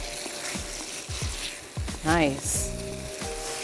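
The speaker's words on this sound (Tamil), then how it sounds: "இன்னும் ஒரு தடவை நல்ல சுருளை இதை வந்து ஹை தீயில வச்சு கிண்டிடுவோம்." Brinjal and potato poriyal is stirred in a pan over high flame, giving a steady sizzle with scraping spoon strokes, while a voice speaks briefly over it.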